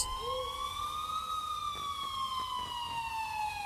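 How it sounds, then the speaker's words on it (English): A police siren wails, rising and slowly falling in pitch, fairly faint and distant, with no voices. "I finally heard sirens in the distance."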